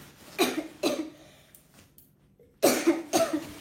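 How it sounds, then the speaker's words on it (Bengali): A woman coughs in a home while showing a sari, with two close coughs, a pause with a faint breath, then two more, moderately loud and alone without speech. "কাশি হয়ে গেছে একটু"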